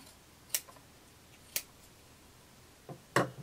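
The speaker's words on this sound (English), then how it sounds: "let's go ahead and clip off some of the seam allowance" Scissors snipping the seam allowance off a sewn fabric piece, four sharp isolated clips spaced about a second apart, close and crisp against a quiet room, no talking.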